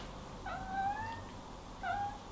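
A cat lets out two drawn-out, complaining meows, the second shorter, faint against a quiet room background.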